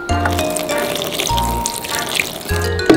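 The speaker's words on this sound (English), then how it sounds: "Let me try to wash it with water." Water from a tap runs steadily into a sink while dirty slime is rinsed under it, a continuous wash of splashing with faint dripping textures throughout.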